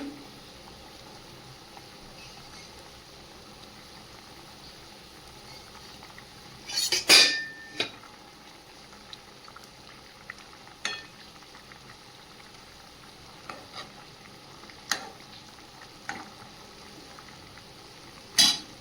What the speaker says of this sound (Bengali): আলুটা সেদ্ধ হয়ে গেছে দেখছি এই পর্যায়ে ভেজে রাখা মাছগুলো দিয়ে দেবো